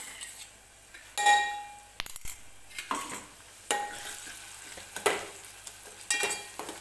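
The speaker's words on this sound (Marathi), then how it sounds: "हा मसाला सुद्धा आपल्याला तेलामध्ये व्यवस्थितच परतून घ्यायचा आहे" Spoon scrapes and clinks against a pan while a ground spice paste sizzles softly in oil, with several sharp metallic taps through the stirring.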